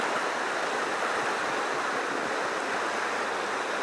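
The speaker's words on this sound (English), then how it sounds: "It's quite good with fast water flowing through it." Fast water rushing steadily through a fishing spot on the Annan River, a continuous broadband churn heard up close with no voices.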